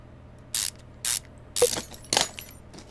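Mechanical ratcheting as bolts are tightened on a car sway bar in the video game Car Mechanic Simulator 2015: four short, bright clicking bursts spaced about half a second apart, crisp and close over a quiet hum.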